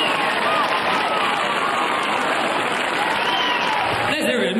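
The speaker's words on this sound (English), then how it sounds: "Give yourself a beautiful round of applause, ladies and gentlemen." Live funk concert audience in Boston, 1977, gives sustained loud applause with scattered cheers and crowd voices mixed under a lingering electronic tone, steady throughout.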